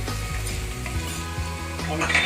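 Fresh green and red chillies frying in a pan for a mushroom chilli dry, a loud close sizzle with stirring clinks and scrapes against the metal.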